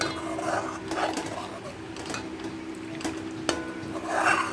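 A spoon scrapes and clinks against a metal pot as milk is stirred for kheer, giving irregular soft scraping strokes with a few sharper taps, alone and close by.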